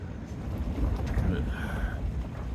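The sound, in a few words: strong wind gusts buffeting a winter tent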